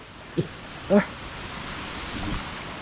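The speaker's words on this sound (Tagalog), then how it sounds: "Lakas yung hangin mga idol." Strong wind roars steadily across the microphone, with a couple of brief voice-like bursts early on.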